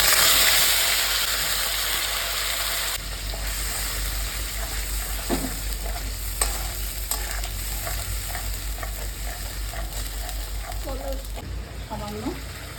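Spice paste hisses and sizzles in hot oil in a pan for a Bengali curry, after whole cumin seeds have gone in, with steady frying noise and intermittent scraping and stirring clatter, close up and fairly loud.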